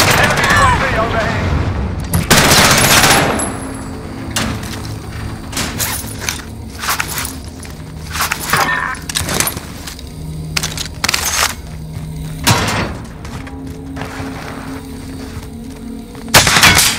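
Gunfire in Call of Duty Warzone on Rebirth Island, heard as loud, close bursts of rapid shots and single cracks spread across the clip, mixed with mechanical clicks and short radio-style voice lines.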